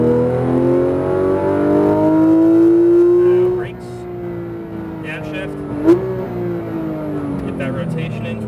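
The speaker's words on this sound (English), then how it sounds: "Straight shots, build throttle." Porsche GT3 RS engine revving hard on a straight, pitch climbing steadily as throttle builds, then dropping sharply at a gear change and rising again; loud and close, with an instructor's voice speaking over it.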